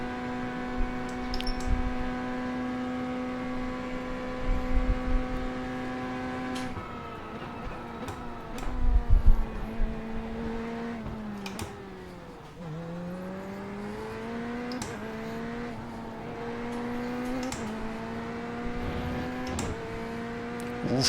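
GT3 race car engines drone in iRacing, a steady tonal whine that shifts pitch as gears change and revs dip and climb, with occasional soft bumps and clicks.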